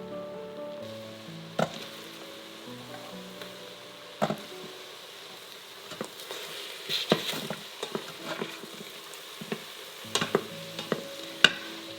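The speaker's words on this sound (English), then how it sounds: "We're going to use the Instant Pot to saute some mushrooms and carrots" Mushrooms and carrots saute in an Instant Pot, a quiet sizzle under sharp stirring scrapes and clacks of a utensil against the inner pot, scattered irregularly and up close.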